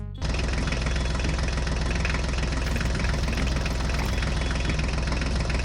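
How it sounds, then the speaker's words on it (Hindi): A mini toy tractor's engine runs steadily, a dense, continuous mechanical hum and rattle that starts abruptly and holds at a constant loud level without talk. "अब हम अपने मिनी ट्रैक्टर को आगे लेकर चलते हैं।"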